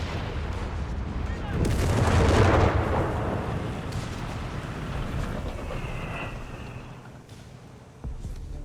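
An artillery bombardment lands on a machine-gun position in the World War II strategy game Company of Heroes 3, with a heavy rumbling barrage swelling to a loud peak before fading into distant battle noise.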